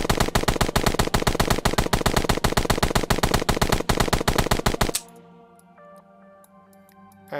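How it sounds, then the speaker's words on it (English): HK G11 rifle firing full auto in a video game, a loud rapid string of evenly spaced shots for about five seconds, then a cut to quiet electronic game tones and clicks. "We just will go to the full auto and we'll fire."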